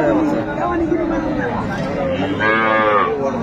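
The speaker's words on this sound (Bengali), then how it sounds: "বেশ সুন্দর গাভী বাছুর আমরা দেখছি।" Dairy cows and calves at a busy rural cattle market in Dinajpur moo repeatedly, one long clear low call rising near the end, over a steady crowd hubbub.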